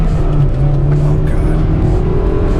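An Acura Type R's high-revving engine roars loud and close from the cabin, a dense, raw, steady drone that holds strong throughout without any talking.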